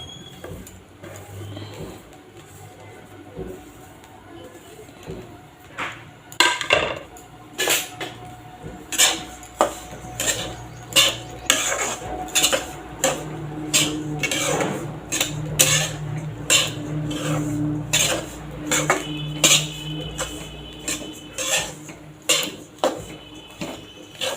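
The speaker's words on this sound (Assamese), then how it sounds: "এইখিনি তিল মই ইয়াতে ভাজিবৰ কাৰণে দি দিম" Sesame seeds roasting in a hot wok, stirred steadily with a utensil: a quiet start, then a long run of sharp metallic scrapes and clinks in an irregular rhythm, close and loud, with no talking.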